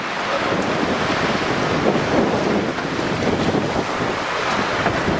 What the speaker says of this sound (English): A bit windy, a bit wavy.